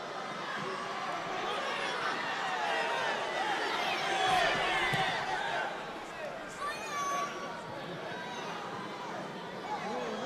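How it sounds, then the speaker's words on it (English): Excited crowd noise at an Under-21 international football match between France and Germany, a broad steady roar of cheering and chatter that swells midway, with a commentator's voice running over it. "Well, the crowd excited."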